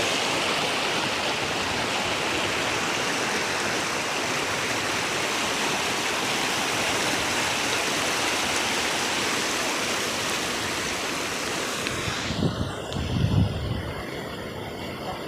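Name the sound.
rainwater flowing like a stream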